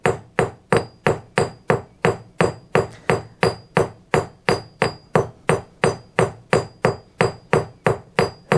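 A hammer strikes pewter in a steady, even rhythm of about twenty sharp, ringing blows, loud and close, with no voices.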